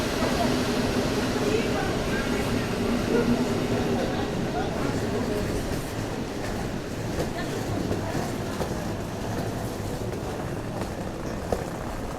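Steady rumble and rattle of a moving sleeper train carriage bound for Kyiv, a first-class car, fills the clip continuously, with people talking over the noise.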